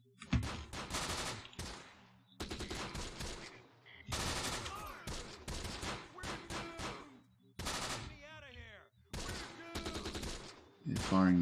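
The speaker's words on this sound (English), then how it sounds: "They're firing now at this one." Troops firing in the video game Close Combat: The Bloody First, repeated bursts of rapid machine-gun and rifle fire in separate volleys with short gaps between them, loud and close.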